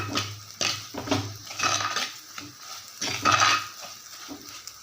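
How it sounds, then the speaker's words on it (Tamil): A spoon scrapes and stirs spice powder sautéing in oil in a pan for a kuzhambu, with faint sizzling underneath, steady repeated strokes close by. "இப்போ இந்த எண்ணெயில் நல்லா தூளை வதக்கியாச்சு"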